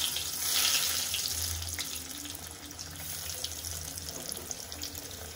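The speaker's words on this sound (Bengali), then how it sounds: "এবার এর মধ্যে এই ফিশ ফিঙ্গারগুলো একটা একটা করে দিয়ে দেব।" Fish fingers fry in hot oil in a wok, one by one, giving a steady broadband hiss and bubbling that swells early and then settles into a continuous sizzle, with no voices.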